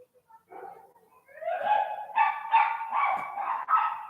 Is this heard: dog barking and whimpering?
yes